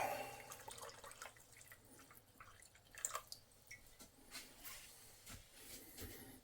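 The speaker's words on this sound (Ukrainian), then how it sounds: "Додаю ще трохи води." Water pours and drips into a cauldron-style pot of meatless borscht in the background, with irregular small splashes and clinks, fairly quiet throughout.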